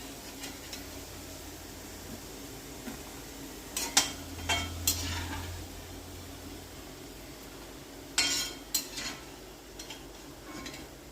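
Fried bitter gourd is scooped out of a pan, giving a few short metallic scrapes and clinks of a spoon against the pan over a steady, soft hiss from the stove.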